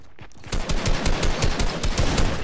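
Rapid pistol and AK rifle gunfire in the Fortnite video game, a quick run of sharp, regularly spaced shots after a brief quiet start, loud and close with no voice.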